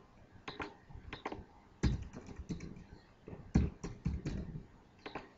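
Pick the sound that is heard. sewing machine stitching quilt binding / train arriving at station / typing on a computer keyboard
typing on a computer keyboard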